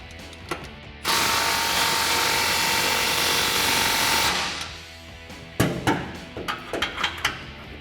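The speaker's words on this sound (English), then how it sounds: "So now we can fully tighten down all of our clamps." A ratchet with a 15mm socket snugs down exhaust clamps on a 2019-2022 RAM 1500 muffler install: a loud, close, steady mechanical whirr for about three seconds, then a string of sharp separate clicks and knocks.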